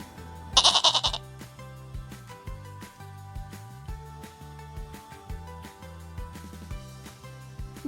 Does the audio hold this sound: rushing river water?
no